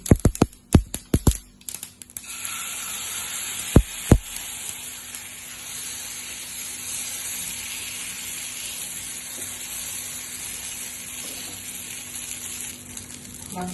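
Sesame seeds dropped into hot oil in a pan, a steady fizzing sizzle that runs on for over ten seconds after a few sharp clinks and taps at the start.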